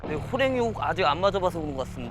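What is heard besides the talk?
No everyday noises stand out.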